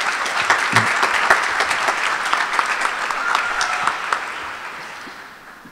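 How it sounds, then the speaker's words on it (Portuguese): A congregation claps for the reading of the Gospel in a church service, with loud, dense applause and a few sharp individual claps standing out, then gradually fading toward the close. "Dá uma salva de palmas para a palavra do Senhor."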